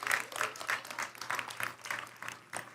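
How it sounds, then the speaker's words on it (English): A round of applause for athletes and coaches at a school board of education public session, a modest, steady patter of clapping from a small indoor audience, somewhat distant and fading toward the end. "Can we have another round of applause to our athletes and coaches?"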